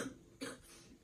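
Two short coughs, close and fairly quiet, the second a little sharper, with nothing else around them.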